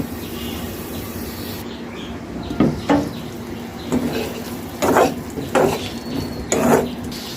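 A spoon scrapes and knocks in a pan of jackfruit seed and prawn curry, giving several separate stirring strokes over a steady low room hum, with no speech.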